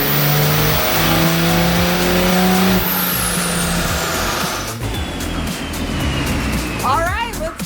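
A turbocharged car engine on a dyno revs loudly with rising and falling harmonic tones, then settles toward idle while the turbo cools, and people talk over it.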